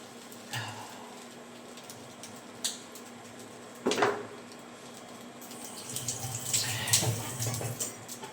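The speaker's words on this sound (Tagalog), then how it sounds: "Habang nagpapainit, ugasan na natin yung kutsilyo." Water runs from a kitchen tap while a knife is rinsed after chopping onions, a steady close wash with a few clinks and a louder splashing burst toward the end.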